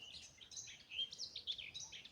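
A nightingale sings in a rain-washed garden, quick chirping phrases and whistled notes trilling in short bursts, fairly faint and alone with no voices.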